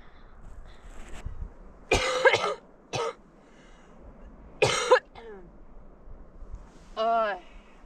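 A few sharp coughs in separate bursts, with a short throaty sound near the end, over quiet background.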